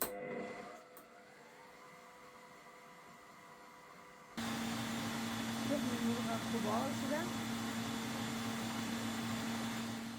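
A steady electric mixer motor beating eggs with milk and sugar starts abruptly partway through and drones on loudly, with faint room noise before it begins.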